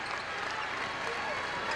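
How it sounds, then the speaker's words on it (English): Basketball arena crowd clapping in unison before the start of a half, a dense, steady wash of applause heard briefly at moderate distance. "The crowd doing its clap chant as they do before the start of every half."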